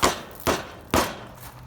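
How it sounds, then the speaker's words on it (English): A hammer strikes an Exmark Metro mower tire to break the bead seal, giving three loud, evenly spaced dull thumps about half a second apart with no one talking. "get yourself a hammer. Where'd I put the hammer? You want to break the seal."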